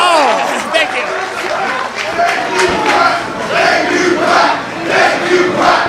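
A wrestling crowd roars and cheers after a two-footed drop kick, loud surging shouts rising and falling in waves with overlapping voices and chatter throughout.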